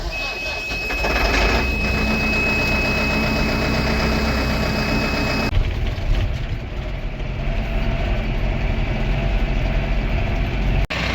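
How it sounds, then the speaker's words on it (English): A loader tractor's diesel engine idles with a low steady rumble and a high whine that drops away midway, the drone continuing close and loud. "I'm gonna go start the loader tractor now."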